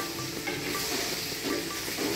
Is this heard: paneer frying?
yes